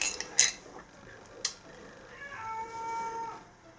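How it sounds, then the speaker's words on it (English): A house cat meows insistently for attention, its drawn-out cries rising near the end after a couple of sharp clinks of dishes or cutlery early on, with no talking. "the cat is crying for attention as soon as I want to start working"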